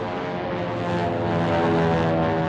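A P-47 propeller fighter plane flies overhead in a 1956 Hollywood drama, a loud steady droning engine roar with a deep throbbing hum that swells slightly as it passes.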